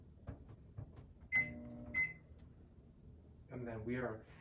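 A microwave keypad gives two sharp, high beeps about half a second apart while being set to cook oatmeal for 45 seconds. Soft kitchen handling noises come before the beeps, and a person talks quietly afterward.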